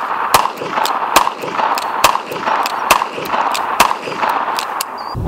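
Gunshots from a .357 Magnum revolver fired at a target, a series of sharp loud cracks spaced under a second apart with ringing echoes in between.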